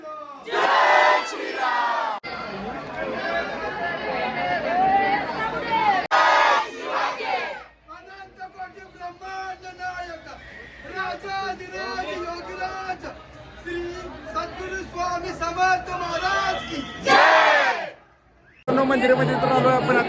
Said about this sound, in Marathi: मित्रांनो फुल गर्दी आज रविवार आहे संडे त्यामुळे गर्दी बघू शकता